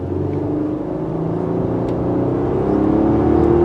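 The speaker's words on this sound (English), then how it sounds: "The engine's willing, that's for sure." A 2020 Infiniti QX60 AWD SUV in sport mode accelerates. Its engine gives a loud, steady drone that swells gradually as revs climb, with no voices over it.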